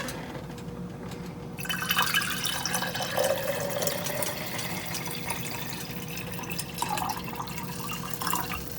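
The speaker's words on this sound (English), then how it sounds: "use the marinara bottle to put the water in" Tap water pours into an empty glass marinara jar, a steady close splashing fill whose tone shifts as the jar takes on water, with no talk.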